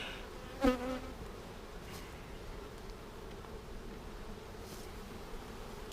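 Honey bees humming steadily around a package bee colony hive in July, a continuous close drone with a brief louder buzz passing near the start and no speech.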